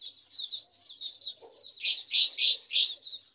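A hen clucks among her newly hatched chicks, whose thin high peeping runs continuously while several louder, closer clucks break in toward the end; no one speaks.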